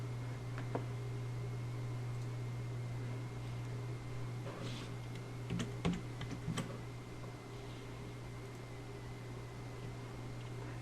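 Computer keyboard keys tapped while naming a new photo album, a few scattered soft clicks, mostly around the middle, faint over a steady fan-like hum with no voices.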